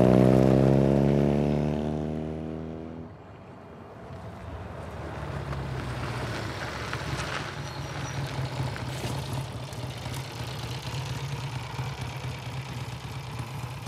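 Motorcycle engine in the Uncharted 4 video game: a loud engine roar that drops away after a few seconds, then a steady droning ride mixed with wind and rushing noise, no talk.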